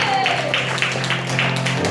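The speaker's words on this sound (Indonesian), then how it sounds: "Berikan tepuk tangan buat Allah kita." A church congregation claps in a rhythmic beat over sustained worship keyboard music, filling the hall at a strong, steady level.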